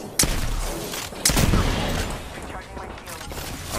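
Gunshots in the Apex Legends video game: a couple of sharp, fairly close reports about a second apart, trailed by scattered fainter shots amid dense, noisy battlefield ambience.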